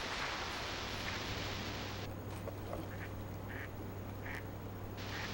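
A wing-clipped duck quacks several times in short, moderately distant bursts while a young shorthair dog chases it, heard over steady wind-like outdoor noise.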